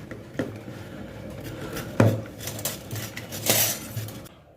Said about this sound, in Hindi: अब इसको हम कद्दूकस करेंगे बोटे वाले साइड से।